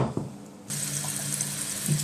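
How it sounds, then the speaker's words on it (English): A kitchen sink tap runs steadily as vegetables are rinsed under the stream, a constant close hiss of flowing water that starts abruptly after a brief clatter. "I'm washing the vegetables because I want everything to be clean and nice."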